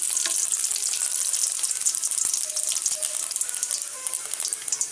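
Cinnamon, cloves and poppy seeds fry in hot oil in a pan, giving a bright, continuous sizzle with crackling pops throughout, close and fairly loud.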